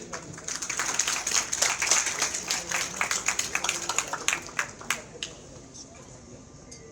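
At a textile and wool industry event, an audience applauds to welcome a guest onto the stage; a thin scattering of claps swells, then thins into sparse individual claps and fades out over several seconds.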